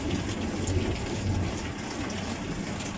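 A low, distant rumble of thunder, about 5 kilometres away across the Amur River at Komsomolsk-on-Amur, rolls beneath steady rain, faint and continuous throughout with no voices.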